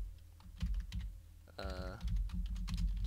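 Rapid clicking of a computer keyboard while text is typed into a Minecraft book and quill, an uneven run of close, crisp keystrokes over a low background hum, with no talk.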